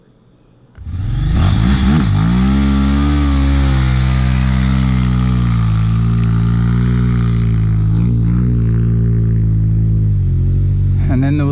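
Honda CRF 300 Rally motorcycle on beach sand starting up and revving hard, a close, loud engine note that rises and then holds a steady high drone with small pitch wobbles.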